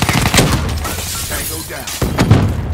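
A grenade explosion in the video game Black Ops 3 during an Xbox One multiplayer match, heard as loud, rough blasts and shattering crashes over noisy battle sounds across the whole moment.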